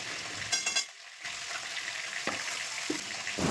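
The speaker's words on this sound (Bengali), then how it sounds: "অল্প একটু আদা বাটা এবং সব রকম মশলা অল্প অল্প দিয়ে আমি চর্বি কুচানোটাকে কষতে থাকলাম" Chopped beef fat sautés with ginger paste and mixed spices in a pan, giving a steady, moderately loud sizzle with a few scraping stirs.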